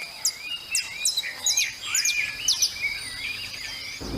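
Birds in a lone tree beside an asphalt parking lot sing and chirp in quick, bright phrases, several calls overlapping at moderate distance over a faint steady background hiss.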